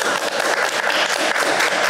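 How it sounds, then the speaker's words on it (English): Crowd applause at a real estate networking and fundraising event, a steady, full roar of many hands clapping throughout, loud and continuous with no talking over it. "Just a round of applause for Yama, everybody."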